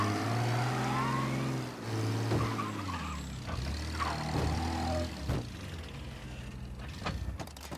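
Vehicle engine in Mafia: Definitive Edition, a steady low drone that shifts pitch as the car drives. Thuds and clatter cut in around the midpoint, and no one speaks.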